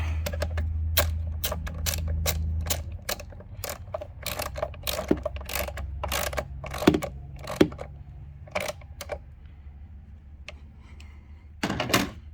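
A bolt is threaded by hand and tightened onto a bracket during a P055B/P055C sensor repair on a 2.5L engine, giving a run of sharp, irregular metallic ratchet clicks close up over a low background hum, with no talking.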